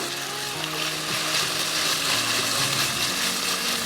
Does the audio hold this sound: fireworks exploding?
no